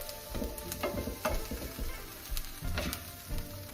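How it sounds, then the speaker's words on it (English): Rice, vegetables and spices toasting in a pan, a close, continuous sizzle broken by intermittent scraping and stirring clicks, heard alone without talk. "Letting those veggies, letting that rice get nice and toasty."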